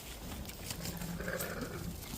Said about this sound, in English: Start fighting sheep.